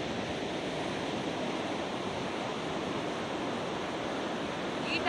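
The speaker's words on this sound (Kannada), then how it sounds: "ಸಮುದ್ರದ ಆರ್ಭಟ ನೋಡಿ ಯಾವ ರೀತಿ ಇದೆ ಅಂತ" Rough monsoon sea at night on the Kundapura coast, waves surging far up the beach in a dense, continuous roar of surf with no breaks and no voices.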